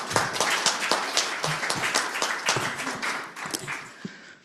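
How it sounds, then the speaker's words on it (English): Patient day audience gives a round of applause, a lively patter of many clapping hands that gradually thins and fades toward the end, with no talk over it. "I think you should all give yourselves a round of applause"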